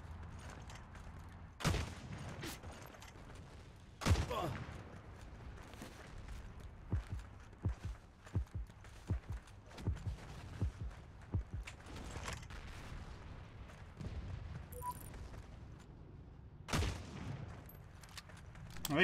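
Scattered single gunshots from a World War II style shooter game with a PTRS anti-tank rifle, sharp cracks spaced irregularly over quiet mechanical clicks and footsteps, some near and some farther off.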